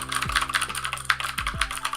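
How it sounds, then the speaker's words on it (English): Typing on an Aukey budget mechanical keyboard with blue switches and a heavy metal frame: a steady run of sharp, clicky keystrokes, close and fairly loud, with a few heavier thumps mixed in and no talk. "it's a blue switch, and it feels like one, and it feels nice and sounds even better"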